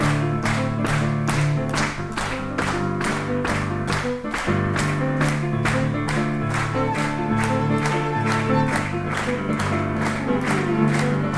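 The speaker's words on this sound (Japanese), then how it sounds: "手拍子お願いします" Audience claps in steady rhythm along to live music at a wedding, the beat of hands cutting loud and even through the band from start to finish.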